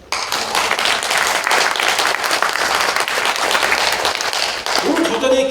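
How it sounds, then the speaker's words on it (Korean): Loud, sustained applause fills a lecture hall at the National Assembly during a special lecture, many hands clapping in a thick, continuous wash for several seconds before a voice briefly cuts in near the end. "박수 한번 쳐주세요"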